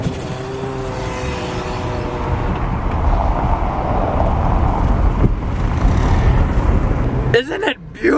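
Steady rumble of a car driving down a road at night, close and continuous, building slightly in level before a brief disturbance near the end.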